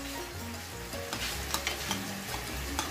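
A spoon stirs a creamy jackfruit and shrimp dish with coconut cream in a pan, giving a close, soft sizzle with a few light scraping knocks and no voices.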